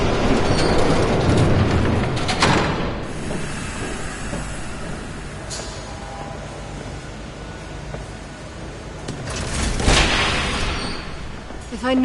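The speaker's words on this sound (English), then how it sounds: "There's a train coming" A train rumbles past in the background of a noir Batman game scene, a steady loud rolling roar with swelling surges, heard without any speech.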